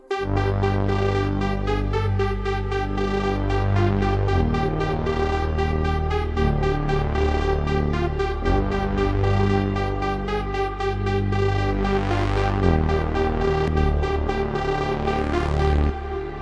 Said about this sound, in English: Wow, that reverb. That's sort of this deep bass thing